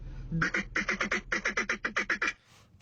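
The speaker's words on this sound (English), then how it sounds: "That sounds like a fucking duck call." A duck call is blown in a rapid run of about fourteen loud, nasal quacks in a steady rhythm, close to the microphone, ending abruptly into quiet background.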